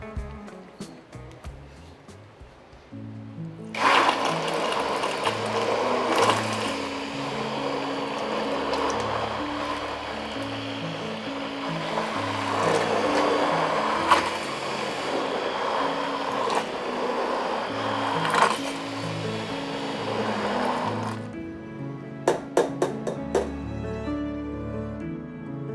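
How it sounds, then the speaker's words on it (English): An immersion blender whirring through a sauce, a loud steady motor buzz that starts abruptly and runs continuously for around seventeen seconds before stopping, followed by a few clicks and knocks. "So next up, I'm gonna blend it with the immersion blender."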